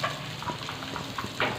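Vegetables such as carrot sizzle and fry in a spoonful of hot oil for a samosa or roll filling, a steady crackling hiss with a few stirring scrapes and a louder burst near the end.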